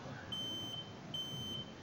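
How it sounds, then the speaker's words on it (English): A fire alarm in the Doki Doki Literature Club mod game gives two thin, high-pitched electronic beeps, each about half a second long, faint over a quiet background. "The screech of the fire alarm kills the tension immediately."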